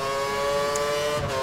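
A Formula 1 car engine in the racing game F1 2013 at Circuit of the Americas gives a steady, loud, sustained high-pitched drone with no break.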